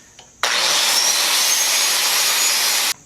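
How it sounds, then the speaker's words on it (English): An old Makita saw cuts for about two and a half seconds as a steady, loud, hissing whine that starts and stops abruptly, with faint background sound before and after. "this old Makita, it really cuts nice. It's not even that loud"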